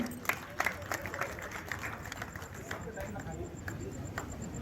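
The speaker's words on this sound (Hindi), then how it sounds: "एक बार ताली से आप स्वागत करो।" Applause from an audience at a kavi sammelan poetry event in a large space, steady and somewhat distant, with a few sharper claps standing out at the start.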